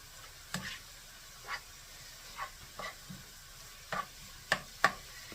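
A spoon stirring onion beef fried rice with eggs in a pan, a quiet sizzle under a series of separate scraping knocks that come irregularly and grow a little louder toward the end.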